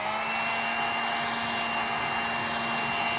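A heat gun or hair dryer blows hot air onto a vinyl decal on a 2014 Kawasaki KX450 dirt bike, giving a steady, loud, unbroken whirring hiss with a faint constant hum throughout.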